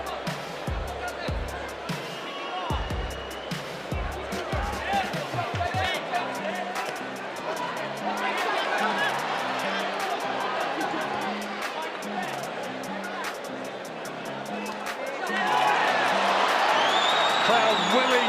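Crowd cheering in a boxing arena during a bout between Conlan and Ancajas, a broad, sustained roar that swells near the end, under continuous commentary with scattered thuds of punches.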